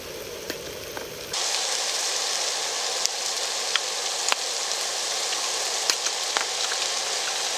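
Light rain falling at an outdoor campsite during a solo overnight camping trip, a steady soft hiss that starts after a quiet moment, with scattered drop ticks on surfaces.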